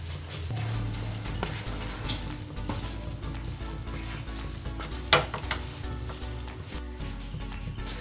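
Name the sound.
stirring and frying green pea mixture in a pan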